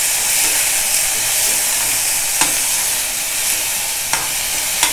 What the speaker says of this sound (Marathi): लसूण, कांदा आणि टोमॅटो सगळं आपण हे एकदम घालूया आणि चांगलं परतून घेऊया